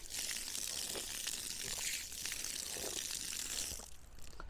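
Water gushes from a drinking-water pipe at a garden housing plot in Pollachi, a steady, continuous splashing rush that stays fairly faint throughout, with no voices.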